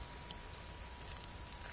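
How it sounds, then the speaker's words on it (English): Rain falling at night, a faint steady hiss of drops for a brief moment, with no voices. "when it is nighttime and it is raining"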